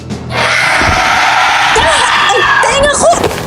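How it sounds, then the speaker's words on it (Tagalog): A flying aswang child creature lets out a loud, sustained, piercing scream in a Filipino audio drama, the harsh shriek wavering and rising in pitch for about three seconds. "kasabay noon ay ang malakas na pagsigaw ng batang lumilipad"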